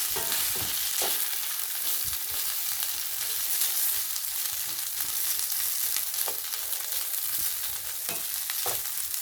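Bologna slices sizzle and fry on a hot griddle, giving a steady, dense crackle with scattered sharper pops and faint scraping as the slices are moved, close up and without speech.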